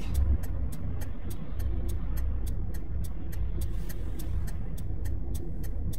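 Steady road traffic on a Saturday in New Zealand: a continuous low rumble of passing cars with no talk, plus a rapid regular ticking like a turn signal running through it.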